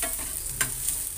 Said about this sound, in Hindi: तो चलाएंगे अच्छी तरीके से।